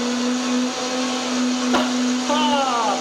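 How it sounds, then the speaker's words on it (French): A kitchen blender whirs steadily while making ginger juice on a cooking show, a continuous loud motor drone running the full three seconds with a brief knock midway and a rising whine near the end. "la main toujours sur le mixeur, n'oubliez pas"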